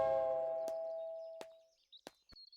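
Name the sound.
doorbell ringing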